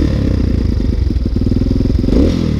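A motorcycle engine idles just after a key-and-starter start, a rough rapid chugging close by with clattery mechanical knocks and a brief blip of throttle near the end, heard alone without voices.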